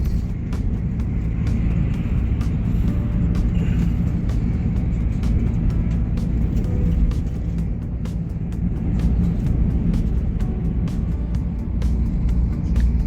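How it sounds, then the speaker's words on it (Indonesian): Sinar Jaya buses pass along a Jakarta road, a continuous loud low rumble of heavy engines and traffic heard close by from a moving vehicle, with no talk. "banyak banget nih bis Sinar Jaya yang melintas ya."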